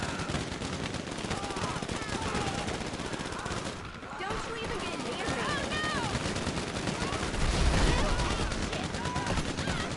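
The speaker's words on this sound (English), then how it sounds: "It has a really high fire rate." A submachine gun fires rapidly in the GTA Online video game: dense, loud bursts of automatic gunfire fill the stretch, with a brief lull midway and a voice talking intermittently over the shots.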